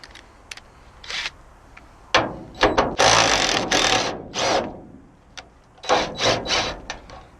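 At a junkyard, an impact wrench works a part loose in loud, harsh bursts of rattling hammering, several short runs broken by quiet gaps with small tool clicks.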